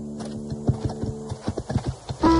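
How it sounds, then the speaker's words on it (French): Horse hooves clip-clop at a sitting trot during a riding lesson, a quick regular rhythm of close, crisp beats with a brief whinny-like tone near the end. "j'aimerais bien voir le trot assis"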